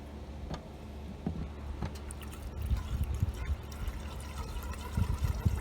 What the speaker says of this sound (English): And now you can wash it with some gasoline.